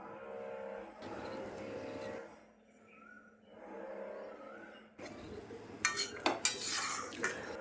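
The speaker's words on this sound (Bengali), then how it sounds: "এবার আমরা মাছগুলো ঢেলে দিচ্ছি এক এক করে, যেগুলো আমরা কিছুক্ষণ আগে ভেজে নিয়েছিলাম।" Fried fish pieces are placed one by one into a pan of spice paste, heard as low bubbling sizzle broken by quiet pauses, then sharper metallic clinks and scrapes of a utensil against the pan.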